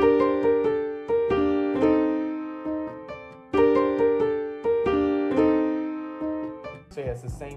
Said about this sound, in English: I went into Keyscape, and I picked this wing upright Keyscape preset.